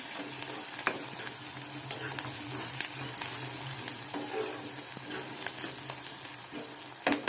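Small garlic cloves frying in oil with onions sizzle steadily while being stirred, with scattered clicks and scrapes of the spoon against the pan throughout.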